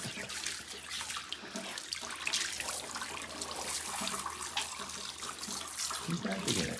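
A hose sprays water over a dog in an apartment shower, a steady broadband hiss with splashing that runs unbroken and fairly close throughout.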